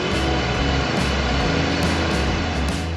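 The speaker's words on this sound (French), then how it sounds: "Le tracteur John Deere 8370R stabilise la vitesse pour optimiser le mélange." A John Deere 8370R tractor pulling a Kuhn Performer 4000 cultivator across a field gives a loud, continuous, droning engine roar that holds steady throughout, with no speech.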